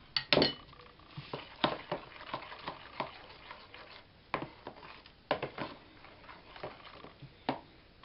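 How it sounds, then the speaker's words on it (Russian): A spoon stirs finely chopped citrus zest in a bowl, making a series of soft scraping strokes and light clinks against the bowl, spaced irregularly and fairly quiet. "Цедру сейчас перемешаем,"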